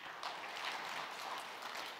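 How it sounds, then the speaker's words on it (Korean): Steady, dense applause from a crowd, sustained throughout at moderate volume with no break. "박수 한번 해주세요. 박수."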